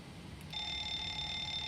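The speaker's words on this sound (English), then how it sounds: "making sure that the fire alarms are working. We'll test these items." Fire alarm test in the cockpit of a Delta Boeing 737-900ER in the P3D flight simulator, heard as a steady electronic bell-like alarm tone that starts abruptly and continues evenly, fairly quiet.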